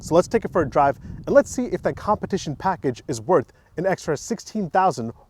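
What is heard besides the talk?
No everyday noises stand out.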